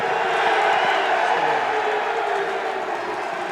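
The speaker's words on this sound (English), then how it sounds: "Some very, very loud cheers, a lot of enthusiasm." A large crowd gives very loud, sustained cheers and whoops for Mrs. Thatcher at an election-night greeting, a dense continuous roar that fills the scene from start to finish.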